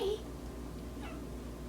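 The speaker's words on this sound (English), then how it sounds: "oh, there's my cat" A house cat gives a short, faint meow at the start, followed by a second soft, rising meow a moment later in a quiet indoor room.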